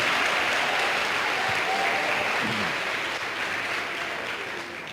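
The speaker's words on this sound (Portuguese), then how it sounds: "Alguém dê um aplauso melhor ao Senhor." A church congregation applauding during a worship service: steady, dense clapping from many people that fills the space and fades slightly toward the end, with no break.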